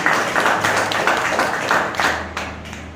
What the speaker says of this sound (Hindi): मेरे ऑफलाइन मिस्टर राजकुमार सर के लिए जोरदार तालियां